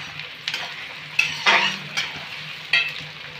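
Onions frying in mustard oil in a pan, soft sizzling with several sharp stirring scrapes and clinks of a spoon against the pan at irregular moments, close and fairly quiet, no talking.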